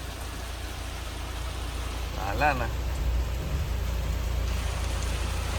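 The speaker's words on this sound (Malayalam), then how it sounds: "മഴ എന്ന് പറഞ്ഞാൽ ഒടുക്കത്തെ മഴ" Steady heavy rain hisses throughout, with a brief voice speaking in the middle over the downpour.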